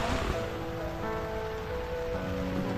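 Steady rain falling at a car campsite in a nature park, a continuous hiss of drops pattering on surfaces and gathering water, fairly faint and without talk.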